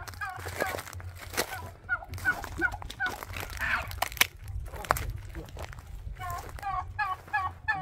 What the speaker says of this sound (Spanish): Ahí andan los guajolotes.